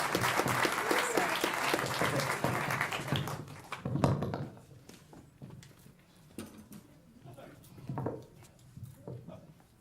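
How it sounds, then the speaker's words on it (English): An audience at an Ignite Bainbridge speaking event applauds a nervous presenter, loud dense clapping for about four seconds that quickly thins to a few scattered claps, then a speaking voice continues over light room noise. "Clap for Steve, he's nervous."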